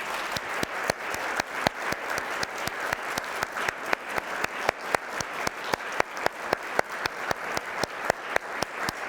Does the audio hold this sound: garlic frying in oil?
no